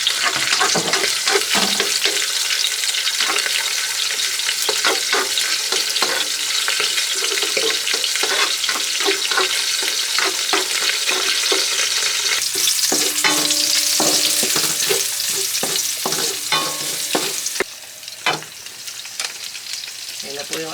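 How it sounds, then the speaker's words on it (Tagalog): Garlic sizzles steadily in hot oil in a pan for garlic rice, with scraping stir strokes and occasional clinks against the pan, loud and close throughout, no one talking. "Nagigisa na po ng bawang"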